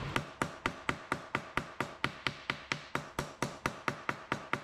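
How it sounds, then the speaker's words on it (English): Hammers tapping sheet metal on the floor pan of a 1961 Parkwood wagon, a steady run of about twenty sharp, ringing metallic strikes at an even, brisk rhythm, close and alone with no talking. "we can tap all that back with our hammers"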